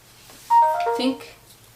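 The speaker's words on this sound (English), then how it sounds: "that was my phone" A mobile phone rings with a short descending electronic chime melody, a quick run of bright tones lasting about a second over quiet room noise, with no talk.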